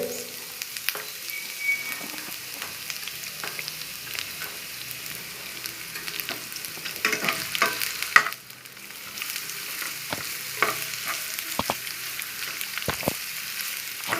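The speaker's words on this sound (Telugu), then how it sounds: "ఒక బిర్యానీకి ఆకు కూడా యాడ్ చేసుకుని వేయించుకోవాలి సన్నగా తరిగిన ఒక కప్పు క్యారెట్" Bay leaf and finely chopped carrots fry in a pan for restaurant-style veg fried rice, a continuous close sizzle with intermittent stirring scrapes and clicks, without voices.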